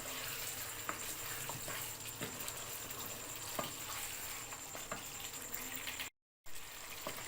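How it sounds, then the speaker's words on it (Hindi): Chicken karahi frying in ghee, a soft, continuous sizzle close by with faint pops and light scraping, briefly dropping to silence near the end. "इसकी दोबारा से हम 2 मिनट के लिए भुनाई करेंगे ताकि घी जो है हमारा वो ऊपर आ जाए"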